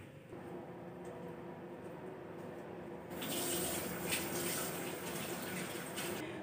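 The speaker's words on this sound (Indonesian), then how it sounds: "Sekarang aku mau cuci muka dulu." Warm tap water runs into a sink at home during quarantine, first a thin trickle, then a stronger steady gush about halfway through, with faint splashing as a face is washed.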